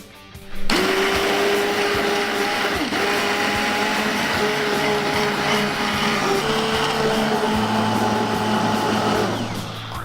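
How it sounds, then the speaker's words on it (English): A stick blender whirs steadily for about nine seconds, loud and close, with a slight shift in pitch as it works through tomato and carrot soup. "we're going to blend it together with our stick mixer"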